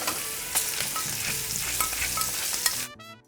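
Cremini mushrooms sizzle in a couple of tablespoons of melted butter in a hot pan, a loud steady crackle close by with repeated scraping stirs, cutting off abruptly near the end.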